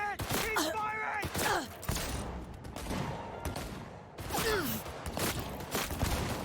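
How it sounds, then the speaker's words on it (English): Gunfire in a video game: bursts of shots and thuds scattered through the clip under close excited game talk and in-game voices. "He's firing!"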